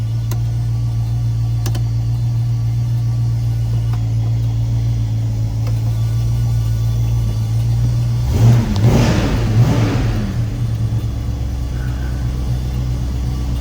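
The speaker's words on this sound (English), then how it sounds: "Car starts right up" A 1971 Plymouth Cuda 340 V8 idles steadily with a deep, loud low rumble, then briefly revs for a couple of seconds before settling back to a smooth idle, heard up close with no talking.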